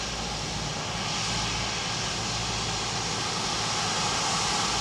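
Ryanair airliner at Dublin Airport, a steady, loud engine roar and rushing noise held constant throughout, broad and continuous with no breaks.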